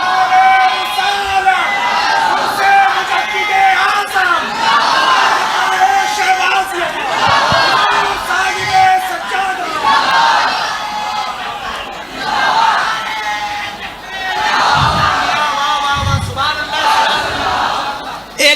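A large gathering at a Sufi khanqah roars back in unison to the takbir slogan call, repeated waves of loud chanted shouts with crowd noise in between, the voices close and overlapping.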